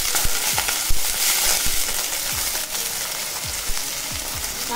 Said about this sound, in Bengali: প্রথমেই একটু রসুনটা নেড়ে নেব, তারপরে আমি দিয়ে দেবো পেঁয়াজগুলো। পেঁয়াজটা একটু নেড়ে নেব।